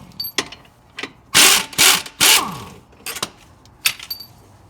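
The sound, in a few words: wrench removing 15mm shock bolts on a GM truck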